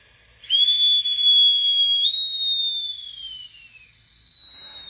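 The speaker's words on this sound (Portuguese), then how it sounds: "você vai ver quando ele atingiu 50 bar, ele vai apitar lá" A self-contained breathing apparatus sounds its low-pressure alarm whistle at 50 bar as the cylinder is closed: a sudden piercing steady tone that slowly drops in pitch and fades over several seconds, close and alone.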